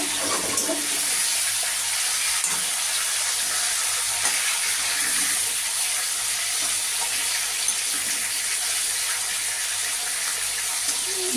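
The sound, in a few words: hilsa fish heads frying in pan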